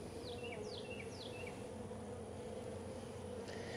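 Honey bees buzz in a steady, soft drone around an open beehive, with a few faint bird chirps heard briefly over the hum.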